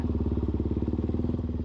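Motorcycle riding slowly in first gear at about 5 to 10 miles an hour, its engine a steady, close, rapid low thumping pulse with no talking.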